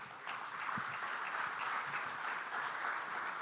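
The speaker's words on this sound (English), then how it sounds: "So please give her a round of applause again." Audience at an ice hockey coaching symposium applauding, a dense, steady wash of many hands clapping that holds at an even level throughout, with no speech over it.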